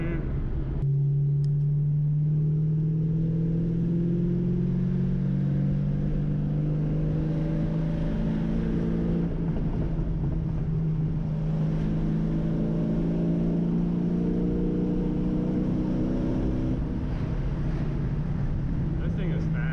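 A 1993 Ford Mustang Foxbody with a high-output 5.0L V8, its engine revving and rising in pitch, then holding and cutting out, loud and close, with some talk mixed in.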